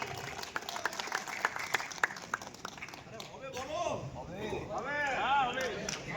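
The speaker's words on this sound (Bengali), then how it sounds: "হাততালির মাধ্যমে আমাকে বলে দিয়েছে হবে।" Outdoor crowd applause at a beach-side masons' gathering in Mondarmoni, scattered claps building into steady clapping over about six seconds, with voices and crowd chatter underneath.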